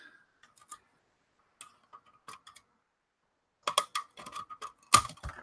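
Scissors snip through prop material for a quantum computer prop build, giving sparse, close, crisp clicks at first, then a quicker run of sharp cuts toward the end, with no talk.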